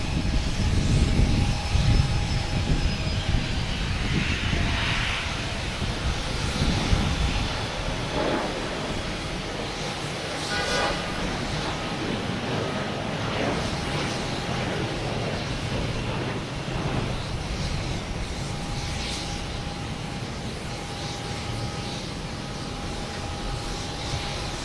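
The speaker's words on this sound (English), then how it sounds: "They have American Airlines heading to Cincinnati and E175." American Airlines Embraer E175 regional jet bound for Cincinnati at Boston Logan, a broad, steady engine rumble that sits loudest at the start and eases slightly, with faint intermittent clatter over it.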